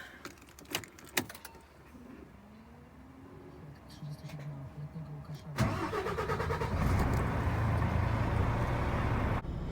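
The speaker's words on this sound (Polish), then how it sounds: "Dobra, wyjeżdżamy, odpalamy furę." A truck engine is started and then runs, with key jangles and clicks first, then a cranking catch and a steady mid-pitched engine idle that grows louder as it moves off, close to the listener.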